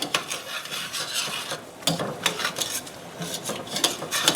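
Metal utensil scraping browned fond from a pan bottom after beef stock is poured in for smothered pork chops, giving repeated short rasping strokes and clinks at close range, with no voices.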